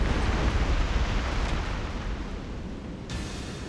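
Torpedo explosion about 100 meters away, with waves washing over, in the video game Reverse: 1999: a broad, rumbling roar like surging surf that slowly fades, with no voices.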